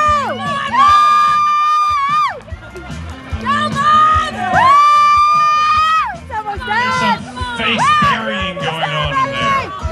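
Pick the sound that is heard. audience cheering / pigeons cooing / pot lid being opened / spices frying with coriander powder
audience cheering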